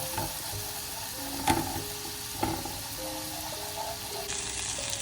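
Flour being stirred into melted fat in a hot pan, with a steady sizzle and frying crackle, two sharp utensil knocks against the pan, and a faint tonal hum underneath.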